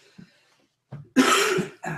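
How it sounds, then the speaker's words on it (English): A person coughs, a faint throat noise first, then a harsh, forceful cough followed by a shorter second one, close and clear. "I still got this cough"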